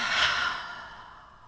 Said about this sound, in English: take that deep breath in. And keep going, take up more and more space. And exhale.